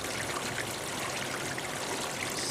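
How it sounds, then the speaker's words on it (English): Water rushes steadily down through the sluice of a small gold wash plant, a constant close splashing and hissing flow heard alone. "that's not quite enough water running down through the sluice"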